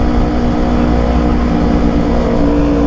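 A motorcycle engine runs loud and close in a steady, continuous drone with no clear rise in revs.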